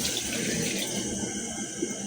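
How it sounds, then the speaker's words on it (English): Water pours steadily into a cooking pot while preparing Nigerian oha soup, a continuous splashing, trickling rush at close range with no talk. "And I'm going to add some more water to this pot."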